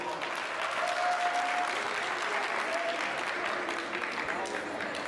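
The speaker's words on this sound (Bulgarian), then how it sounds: "Аплодисменти за момичето." An audience claps for a girl at a Valentine's Day celebration in a wedding hall, dense and steady applause lasting several seconds, with some voices mixed in.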